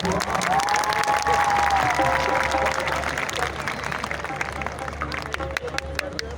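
A crowd claps and cheers at a live outdoor concert, steady dense applause filling the space with a sustained tonal note from the stage sound system running beneath, continuous and fairly loud throughout.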